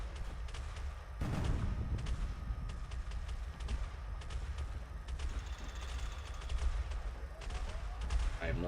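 Ships trading weapons fire in the space game Space Engineers during a StarCore tournament semifinal: dense, continuous bursts of gunfire and booming impacts, loud and sustained throughout, with a sharp blast early on.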